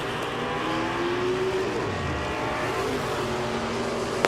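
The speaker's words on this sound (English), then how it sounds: "Highline dragster Tom Gibson at Steger, Illinois on the right." A Highline dragster makes a drag racing run at the IHRA World Finals, a loud, steady engine roar that holds throughout with a rising tonal whine and no talk.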